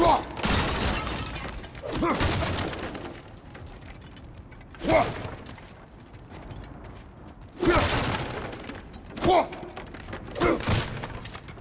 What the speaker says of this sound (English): back to smashing through things for fun and profit